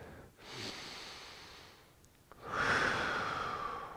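Slow, deep breaths are taken during a yoga hold: a long audible exhale, a short pause, then a stronger, breathy inhale-exhale close to the mic, with no talking.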